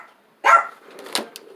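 A dog gives a single close bark followed by a softer whimpering yelp, brief and loud against near silence indoors.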